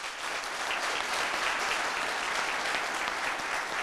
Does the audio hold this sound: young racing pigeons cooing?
no